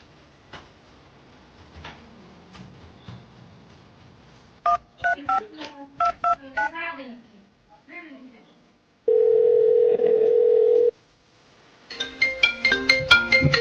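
Several electronic telephone keypad tones beep in quick succession while dialing, followed by a steady sustained tone and then more rapid beeps, close and clear with some faint background noise.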